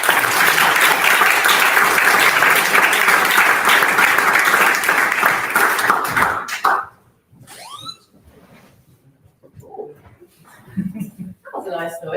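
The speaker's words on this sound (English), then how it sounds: "Round of applause." An audience at a London tech demo night gives a loud, sustained round of applause that stops abruptly after about six seconds, followed by scattered quiet voices and small noises.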